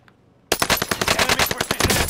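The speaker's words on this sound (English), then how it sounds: "This guy's shooting them with a close range weapon." Close-range automatic gunfire from the Call of Duty video game: a silent half second, then a loud, rapid burst of shots fired in quick succession for the rest of the clip.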